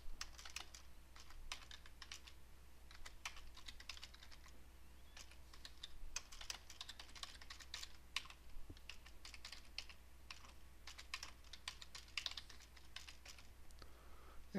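Keys clack steadily on a computer keyboard as a value is typed in, a run of light, irregular taps over a quiet low hum, with no one talking.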